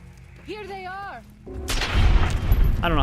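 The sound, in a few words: gunshots in video game Fallout New Vegas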